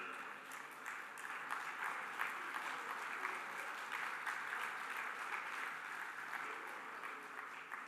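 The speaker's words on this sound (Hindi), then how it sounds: "तो मैं आप सबसे रिक्वेस्ट करूँगा एक बार खड़े होकर जोरदार तालियां अमित जी के लिए बजा दें।" An audience rises for a standing ovation at a conference event, steady continuous clapping from a sizeable crowd, moderately quiet and even, swelling slightly toward the end.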